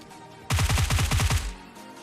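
UMP submachine gun fire in the game PUBG Lite, a quick burst of about eight rapid, evenly spaced shots lasting around a second, loud and close with no talk.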